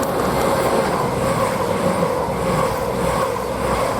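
A Class 222 train on a Sheffield to London service passes through West Hampstead Thameslink station as a loud, steady rumble with a high hiss, close by and continuous throughout, with no voices.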